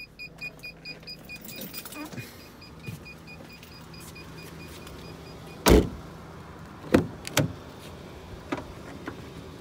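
Doors of a 2009 Daewoo 1.6 manual car opening: a steady low hum with faint clicks, then a sharp latch clunk and a few quick thuds and rattles close by, with someone talking quietly underneath.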